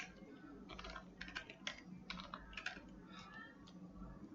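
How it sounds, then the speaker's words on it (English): Steady keyboard typing on a computer while code is copied and written, a run of close, light key clicks with uneven rhythm and brief pauses, no voices. "Now what I have to do is just type this thing."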